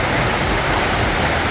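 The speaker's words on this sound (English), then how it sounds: "This waterfall is 400 feet drop here on the Pipiwai Trail." A 400-foot waterfall on the Pipiwai Trail in Haleakala, Hawaii, running full after heavy rains, roars as a loud, dense, unbroken rush of falling water with no voices.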